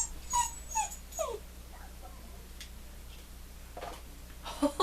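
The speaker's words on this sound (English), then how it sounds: "I locked my dog in here." A dog whimpers from behind a closed door, a few short high whines and yips spread out with quiet gaps, muffled and faint, with one louder burst at the end.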